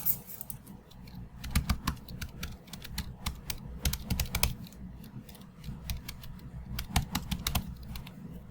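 Fingers type quickly on a computer keyboard, entering an email address and password in irregular bursts of close, crisp key clicks separated by short pauses.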